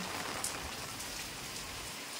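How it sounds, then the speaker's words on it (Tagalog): Heavy typhoon rain during Typhoon Kristine in Lopez, Quezon, pours steadily, a dense, constant hiss of drops pounding a surface close by, with no voices. "malakas ang ulan"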